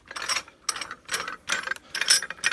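A used pipe clamp is worked by hand, giving five evenly spaced bursts of ratcheting clicks, close and fairly loud, with short pauses between them.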